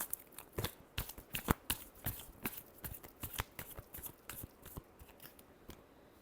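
Tarot cards riffle and snap through a shuffle, a quick run of sharp papery bursts repeating at a steady, close pace with no voice over them.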